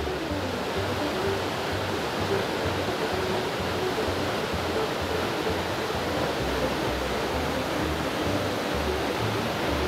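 Waterfall at Lost Creek, Tennessee, heard from near its base by a cave: a dense, steady broadband rush of falling water that stays constant and close throughout, with no voices.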